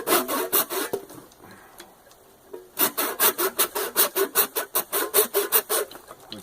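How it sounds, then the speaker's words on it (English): Hand miter saw used as a bone saw cutting through a deer leg, a few rasping strokes, a pause, then a quick steady run of rhythmic back-and-forth sawing, close up. "I'm just going to cut the leg right off. I got a bone saw here."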